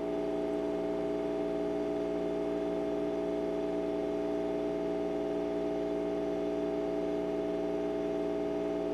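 A grinding machine's abrasive wheel keeps spinning after a hard-turning and grinding job, giving off a steady, loud tonal hum with strong stacked harmonics that holds even and unbroken throughout.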